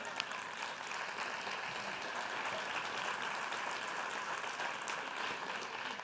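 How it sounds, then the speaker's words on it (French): A seated audience applauds steadily at a French motivational talk, a dense, even clapping that stays fairly soft and distant throughout. "Fait applaudir."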